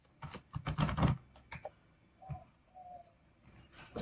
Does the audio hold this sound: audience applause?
no